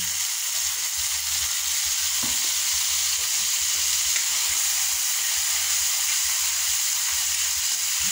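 Native chicken pieces frying with fish sauce (patis) in a pan, a steady loud broadband sizzle that holds constant for the whole stretch with no voices.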